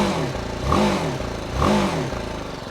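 A BMW G310GS 40th anniversary edition single-cylinder motorcycle engine runs steadily and close by, with two swelling revs rising and falling in a loose rhythm over a continuous throbbing idle.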